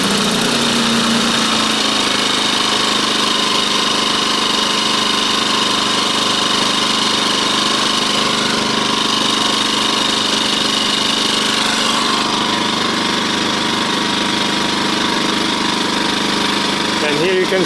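A Champion 2000-watt inverter generator runs continuously close by, a loud, steady mechanical drone with a dense buzzing rattle that stays even for the whole stretch.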